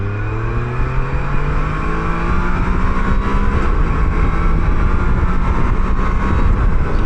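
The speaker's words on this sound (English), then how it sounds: "I like how the 3-cylinder engine sounds" Can-Am Canyon Redrock three-cylinder engine pulling hard under acceleration, a steady loud drone with rising harmonic tones throughout, close to the microphone and no talk.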